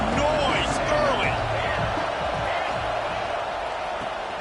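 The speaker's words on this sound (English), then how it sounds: "Crowd bringing the energy and noise early." Stadium crowd at a football game roaring in a steady, dense wash of cheering and chatter, with occasional whoops rising above it throughout.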